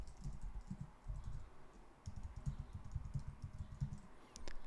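A password being typed on a computer keyboard while setting up a ClickUp account: quick, soft, irregular key clicks in short bursts with a brief pause before a steadier run, close and quiet, no voices.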